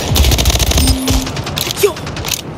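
Rapid SMG bursts in the shooter game Splitgate, a dense stream of close, loud gunfire with mechanical clatter running almost the whole time, faint voice chatter underneath.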